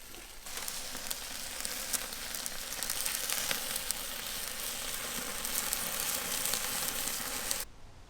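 Smoked chicken pieces sizzle over direct charcoal heat on a Weber kettle grill, a steady, dense crackling hiss with no talk, holding for about seven and a half seconds before cutting off abruptly.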